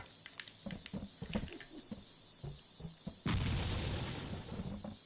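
Bombs explode in the Clodhoppers video game: scattered soft pops and patters, then one sudden loud burst that lingers as a harsh roar.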